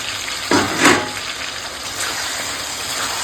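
Pre-fried potatoes are added to chicken being sautéed in oil, making a steady sizzle with a couple of louder splashy bursts early on as they are tipped in and stirred.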